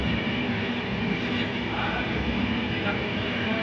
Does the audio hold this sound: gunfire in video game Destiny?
no